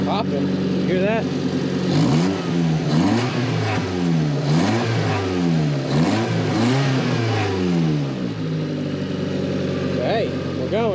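A car engine idles smoothly and steadily after a repair, a continuous mid-pitched rumble that runs throughout while someone talks over it near the microphone.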